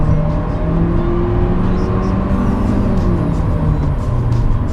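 A Kia Sonet's engine hums and strains at speed while overtaking slower cars on the road, a steady loud drone with a rising pitch and road noise throughout.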